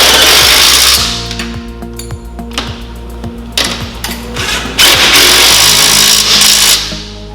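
A power tool drives bolts home at either end of a Mercedes Actros chassis infill panel, loud whirring bursts separated by short pauses and rattling clicks, close up with no voices.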